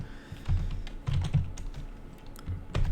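Code is typed on a computer keyboard in close, uneven bursts of clicky keystrokes with short pauses between runs, with no talking.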